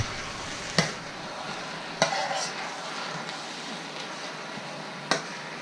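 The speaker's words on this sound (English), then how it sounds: "And you're just gonna stir this all around. Mix it up real good with your spoon." Spoon stirring an egg roll in a bowl mixture, a faint, soft scraping swirl broken by three sharp clinks of the spoon against the bowl, quiet and close.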